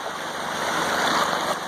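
Clear creek water at a gold camp flows in a steady, fairly loud rush with a broad hiss, close by and unbroken, with no voices over it.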